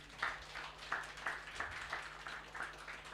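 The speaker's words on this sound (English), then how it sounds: "So please just make some applause for them." A small audience at a Cloud Native Prague meetup gives sparse, scattered applause, around seven or eight quiet, uneven claps over a few seconds.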